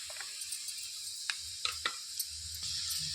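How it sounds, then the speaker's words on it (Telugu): Finely chopped garlic and onions frying in a pan for restaurant-style chicken manchurian, a soft continuous sizzle broken by a few sharp clinks and scrapes of stirring, fairly quiet and with no talk. "ఇందులోనికి సన్నగా తరిగి పెట్టుకున్న వెల్లుల్లిపాయలు వేసుకోవాలి ఇందులోనికి సన్నగా తరిగి పెట్టుకున్న ఉల్లిపాయలు కూడా వేసుకోవాలి"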